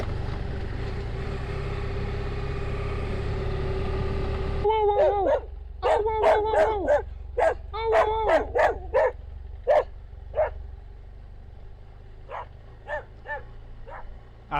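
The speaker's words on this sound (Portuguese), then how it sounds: "Até na BR tem cachorra." Dogs bark beside the BR-319 highway in the Amazon, on an off-road motorcycle trip between Manaus and Humaitá. A steady engine drone gives way to a close burst of repeated, irregular barks from several dogs.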